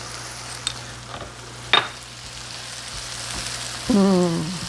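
Mushrooms frying in oil in a pan give a steady, close sizzle under a low hum, broken by a sharp clatter near the middle and a brief squeaky scrape near the end.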